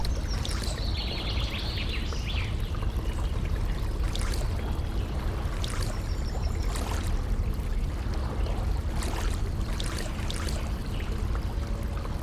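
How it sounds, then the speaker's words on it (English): A river current flowing steadily beside a canoe, a continuous wash of moving water with occasional splashes and faint birdsong in the background, no voices. "a river is a body of water that flows downhill, and it's always moving"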